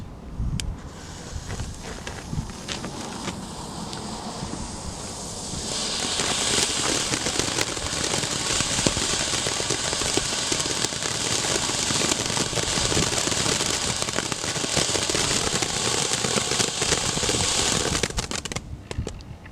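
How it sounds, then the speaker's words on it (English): A Three Colors fountain firework from Boomer Fireworks burns outdoors as one continuous loud hiss and crackle, swelling sharply after a few seconds and roaring steadily for over ten more before dying away, with no talk. "the next one is Three Colors fountain"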